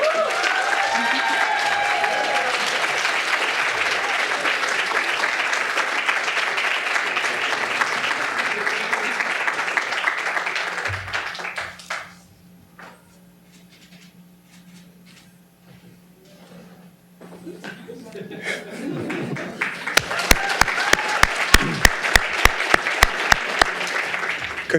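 Sustained applause from an audience at a graduate awards ceremony honoring service award winners, steady and dense for about twelve seconds, then near silence, then a renewed burst of clapping with sharp individual claps up close.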